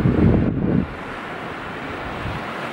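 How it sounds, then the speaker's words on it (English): Ocean waves splash against the shore in a loud, rushing surge for the first second, then settle into a steadier, quieter wash of water under gusting wind noise on the microphone. "I can see the wave splashing"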